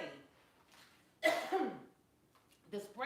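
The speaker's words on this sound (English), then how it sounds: "I know why I'm coughing" A woman coughs several times up close in a quiet room, a few short rough bursts with one sharp loud cough in the middle, irritated by a strong spray.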